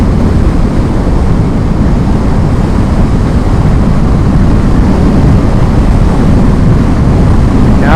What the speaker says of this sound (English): we're going into the wind